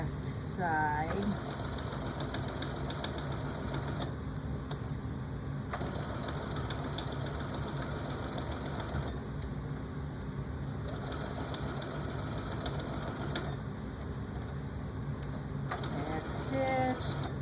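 A sewing machine stitches the last side of a Christmas quilt made from half-square triangles, running in steady bursts separated by short pauses, with a continuous mechanical hum throughout and speech from a person nearby.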